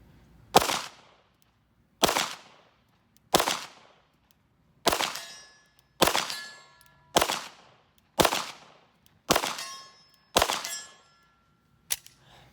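An FN 509 pistol fires nine sharp shots at steel targets about 50 away, each crack ringing with a metallic ping and short decay, spaced roughly one to one-and-a-half seconds apart, loud and close.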